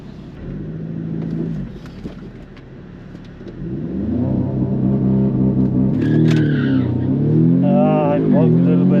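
A tuned VW Polo GTI accelerates hard down a drag strip, its engine note climbing through the gears, loud and close, with a voice talking over it in places.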